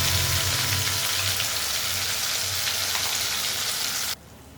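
Ginger, onion and garlic spice paste fries in a hot pan with a loud, steady sizzle close by, running alone without a break before it cuts off abruptly near the end.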